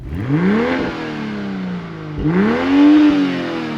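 A 2022 BMW M240i's inline-six engine is heard from outside, revving hard twice with rising pitch sweeps and dropping back between blips, loud and close with no talking.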